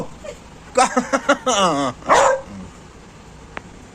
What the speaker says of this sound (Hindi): तू मेरे पे भौंक रहा है।